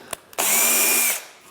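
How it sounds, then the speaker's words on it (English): A drill bores steadily into soft plastic on a 2015-17 Ford F150 for under a second, a loud high whine starting abruptly and cutting off, with a faint click before it. "This plastic is soft. It's going to drill in"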